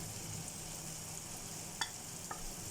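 Chicken frying with turmeric and spices for Kashmiri chicken masala, a soft steady sizzle close by with a couple of sharp clicks from stirring near the end.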